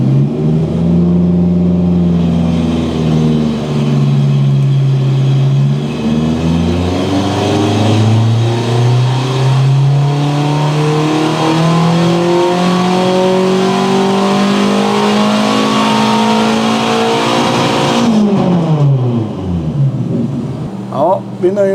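Volvo Penta Aq 151 marine engine revving on a test run with Maringren exhaust pipes, loud rising and falling revs climbing repeatedly before cutting off near the end, with a voice speaking briefly.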